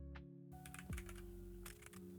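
Several crisp key clicks on a computer keyboard while typing a search term, close and fairly quiet, coming in short bursts over a faint steady hum.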